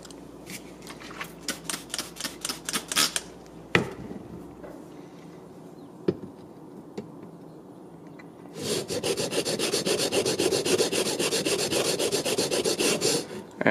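Japanese chisel rubbed on a sharpening stone, first in quick rhythmic strokes, then a pause with a few knocks, then a long steady grinding rub close by, with no speech.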